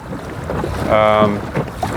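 A small boat cruises into the wind at about 2.9 knots under a quiet ePropulsion Spirit 1.0 Plus electric outboard, with steady water rush and wind buffeting and a faint tonal whine rising briefly near the middle.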